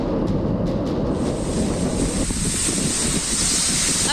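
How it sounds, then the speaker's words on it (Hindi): Cyclone Tauktae's strong winds and sea waves on the Kerala coast make a loud, continuous roar of surf and wind buffeting the microphone close up, with no break throughout. "फिलहाल तोकाते तूफान की वजह से केरल में भारी बारिश हो रही है और तेज हवाएं भी"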